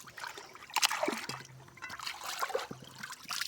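Water sloshes and trickles as someone bathes in a shallow pond, a soft, continuous splashing and dribbling that stays close and moderately quiet throughout.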